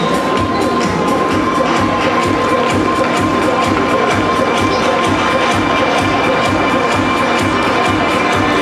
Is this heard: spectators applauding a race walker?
yes